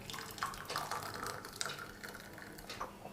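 Tea is poured into four cups, giving a soft, continuous stream of liquid with faint splashy patches. The pouring sounds quiet and close, with no talking.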